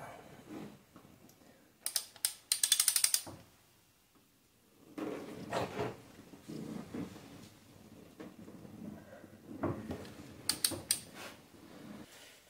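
A ratchet spins while a cylinder head bolt is tightened on a 2.4 Ecotec engine in a 2012 Malibu, producing bursts of rapid metallic clicking separated by quiet pauses, close and fairly loud.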